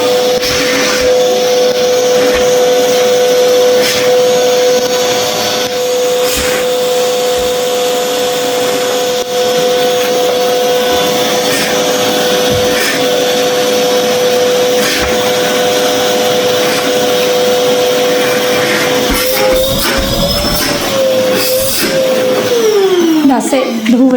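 A Hoover vacuum cleaner runs loud and steady indoors while cleaning up building mess, its motor whine holding constant before shifting pitch and winding down as the machine cuts out near the end.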